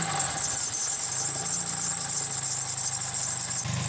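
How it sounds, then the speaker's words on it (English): A squeaky drive belt on a running 2004 Toyota Celica GT engine, a steady high thin squeal over a loud continuous engine idle hum, close and unbroken for the whole stretch. "Don't mind that, that's a squeaky belt."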